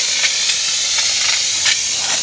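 Steady close hiss of a Harbor Freight handheld steamer shooting steam, with small puffs pulsing in the spray and no voices.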